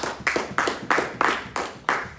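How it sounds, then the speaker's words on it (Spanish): A church congregation claps together in steady, evenly spaced bursts, about three per second, loud and close, with no voices over the applause. "Denle un aplauso a Cristo"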